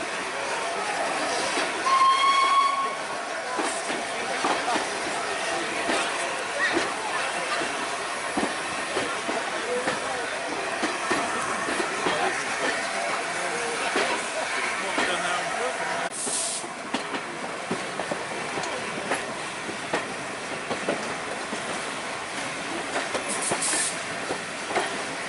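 A steam train gets under way from Barrow Hill Roundhouse behind the shed, with hissing and chuffing over a broad rumble, a brief whistle tone sounding near the start.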